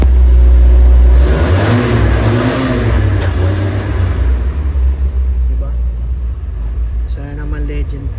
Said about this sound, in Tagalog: Ganda ng makina, pakinggan nyo.